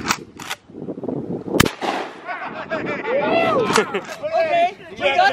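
Gunshots fired at a microwave outdoors, a sharp loud crack near the start followed by further bursty impacts and clatter, with people talking and reacting throughout.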